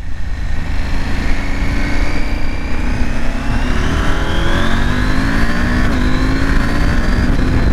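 Husqvarna Norden 901 motorcycle engine revving loud and close, a continuous rough roar whose pitch climbs steadily as the throttle opens, with no one talking over it.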